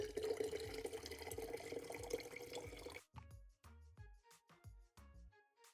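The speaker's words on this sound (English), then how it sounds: "you're gonna pour out that liquid" Liquid poured from one mason jar into another, with a steady close pour for about three seconds followed by a series of separate drips and small splashes trailing off into silence.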